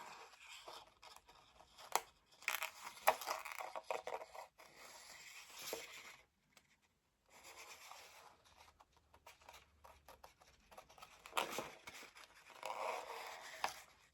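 Scissors snip and slice through paper in quiet, scratchy bursts, separated by short pauses, with a brief silence in the middle.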